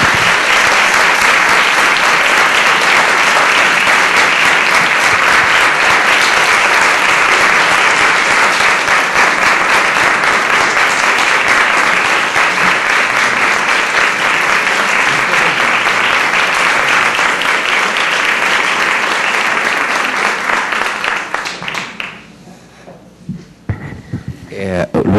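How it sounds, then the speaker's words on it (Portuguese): Sustained, enthusiastic applause from an audience at a university event, a dense wash of clapping lasting over twenty seconds before thinning out and fading near the end. "Eu acho que a gente pode aplaudir você agora efusivamente."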